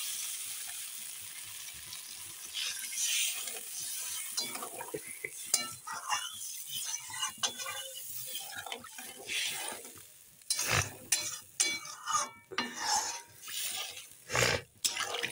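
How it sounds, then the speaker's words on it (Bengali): Fish curry gravy with new potatoes and rohu fish bubbling in a pan, a steady close simmering and sizzling with scattered stirring and pot clinks, growing louder and busier toward the end. "ঝোলটা দেখো কত সুন্দর ফুটছে"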